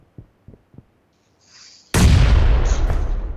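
A loud bomb explosion in the mobile battle royale game BGMI bursts in suddenly after a few faint thumps and a rising whoosh, then roars and rumbles on for over a second.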